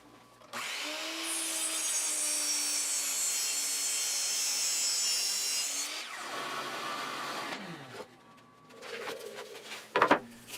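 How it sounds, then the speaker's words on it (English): A miter saw cuts bundled wood pieces to length: a loud, steady motor whine and blade cut lasting several seconds, then a falling spin-down, followed by softer clatter and a few sharp knocks. "I could bunch many of the pieces together and cut them all to length at once using the miter saw"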